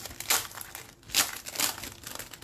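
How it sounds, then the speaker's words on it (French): A dragonfly paper punch cuts through vellum paper in three crunchy, crinkling snaps, close and fairly loud, with short pauses between them. "j'ai décidé de sortir ma perforatrice de libellule"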